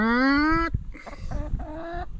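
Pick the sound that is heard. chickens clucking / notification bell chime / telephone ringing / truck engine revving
chickens clucking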